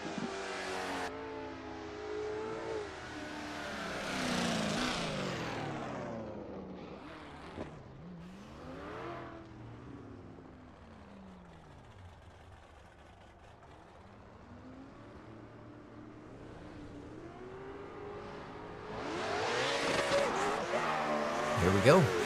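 Toyota Supra drift car in a drifting video game at a virtual drift competition, engine revving and rising as it crosses the finish line, tires squealing, with a commentator talking over it throughout.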